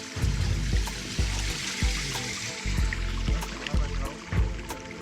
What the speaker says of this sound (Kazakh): Мына аққан су.